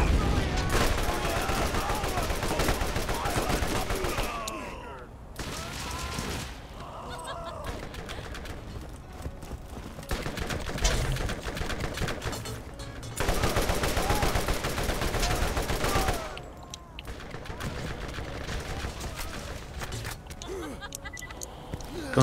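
Gunfire in a co-op Borderlands match, with dense bursts of rapid shots and chaotic effects running in long stretches, broken by short lulls, loud and busy throughout.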